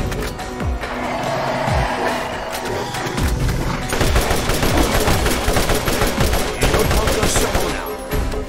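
Turret gunfire in Borderlands, a steady stream of rapid shots with heavy thuds and impacts running throughout, loud and continuous.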